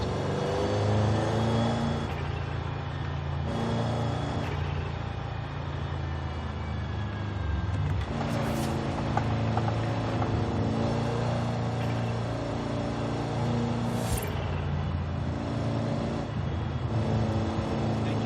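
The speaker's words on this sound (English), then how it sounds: "And that V8 sounds really, really good in this thing." A deep, rumbling V8 car engine in Forza Horizon 5 drones steadily throughout, rising and falling as it accelerates, with a couple of brief sharp bursts along the way.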